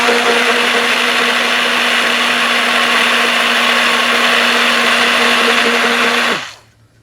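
A GEVI portable rechargeable personal blender runs with a loud, steady whir and a strong motor hum, then stops abruptly near the end and falls quiet.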